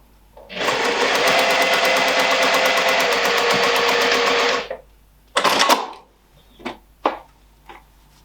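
A sewing machine stitches a fabric tote bag in one loud, steady run of rapid needle strokes lasting about four seconds, followed by a few short bursts of stitching and handling clicks close by.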